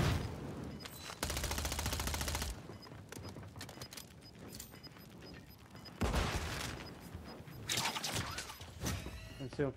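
Rapid gunfire bursts in a Warzone match, dense rattling volleys that start and stop in clusters, with a flare's hiss and crackle mixed in, loud and close with little talk over it.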